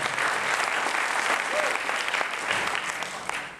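A church congregation applauds in steady, dense clapping that fills the room evenly and stays loud throughout, with a faint voice briefly above it.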